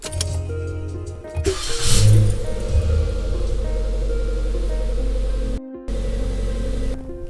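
A heavily modified Suzuki Jimny on 35-inch tires runs hard, its engine droning loud and steady with a rising rev after a short lull, then a brief cut near the end before the drone resumes.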